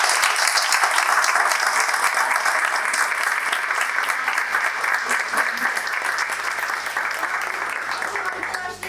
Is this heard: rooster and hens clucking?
no